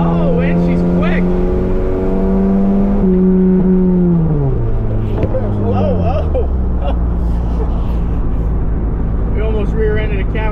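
An old Volkswagen Beetle drives on the road, its engine droning loudly and dropping in pitch through gear changes as it accelerates, heard from inside the car with voices talking over it.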